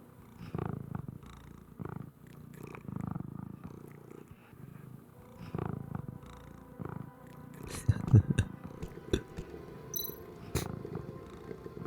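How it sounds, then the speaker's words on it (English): Cats purring in the video game Tales of the Neon Sea: a soft, steady rumbling purr that pulses along for several seconds, with some quiet background clicks and a voice now and then. "Cats! Oh, best sound."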